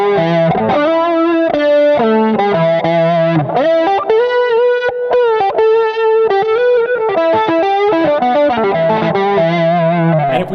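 Electric guitar played through the Archetype plugin on its amp snob setting, modeled on a Soldano head, loud and continuous with distorted sustained notes and chords in a bluesy phrase, played alone.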